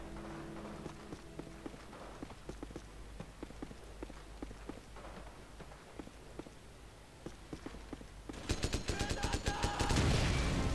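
Video game gunfire from Call of Duty Modern Warfare Reflex on Wii during an online Sabotage match, with repeated shots throughout and a dense, louder burst of fire and an explosion near the end.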